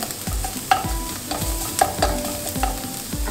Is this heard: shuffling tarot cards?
no